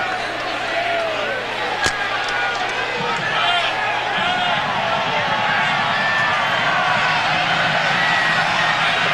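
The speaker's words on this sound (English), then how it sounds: "The brigade still on its feet, still cheering." Navy's brigade of midshipmen cheers from the stands at a 1998 college football game against West Virginia, a loud continuous roar that holds steady throughout, with a sharp thump partway in and a commentator talking over it.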